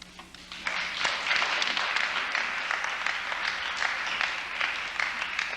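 A university lecture audience breaks into sustained applause, a dense, steady wash of many hands clapping at moderate distance.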